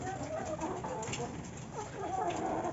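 Pet chickens, a Barred Rock and a Rhode Island Red, cluck and squabble in a steady feeding frenzy, a continuous close jumble of bird calls with a voice mixed in.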